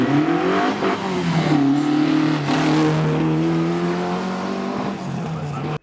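A 1967 Volvo historic race car at a hillclimb gives off a loud, sustained engine roar that climbs and falls through gear changes, with a brief tire squeal, near and continuous throughout.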